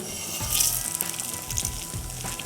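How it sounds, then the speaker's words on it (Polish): An egg sizzles and fries in a hot pan in a steady crackling hiss with scattered pops, loudest just after it lands. "Pięknie zaskwierczało."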